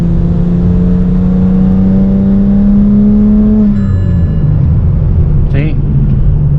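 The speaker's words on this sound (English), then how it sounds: "give it a little third gear" A twin turbo BMW pulling hard in third gear, engine note climbing steadily and loud from inside the car, then dropping off as the throttle lifts.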